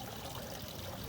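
Running water trickles steadily across a rain table built as a drinking spot for pollinators, a soft continuous wash of flow with no break over the short stretch.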